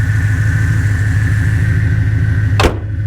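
A Pontiac G8 GT V8 fitted with equal-length long tube headers idles steadily with a deep, even rumble, close and loud throughout, before a brief rushing burst near the end.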